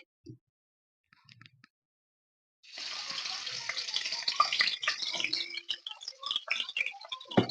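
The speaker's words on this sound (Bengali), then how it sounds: "আমার তেলটা গরম হয়ে গেছে এর মধ্যে আমি মাছের মাথাগুলো দিয়ে দিব একটা একটা করে" Fish heads drop into hot oil in a pan and set off a loud, continuous crackling sizzle with dense spitting pops. Only a few faint knocks come before it.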